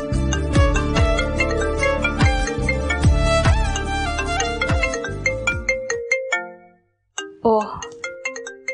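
A mobile phone left behind rings late at night with a loud, bright melodic ringtone that repeats its tune for several seconds, breaks off briefly, then sounds a few more chiming notes.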